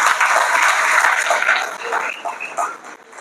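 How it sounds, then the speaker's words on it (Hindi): Loud applause from an audience at an LIC training presentation, cheering the Indira Nagar branch team, a dense burst of clapping that swells and then tapers with a few trailing claps. "एक बार जोरदार तालियां अपने लिए बजाइए"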